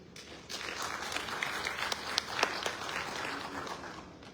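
Audience at an African road maintenance funds assembly applauding steadily for about four seconds, a dense wash of clapping with a few sharper claps standing out, with no talk over it.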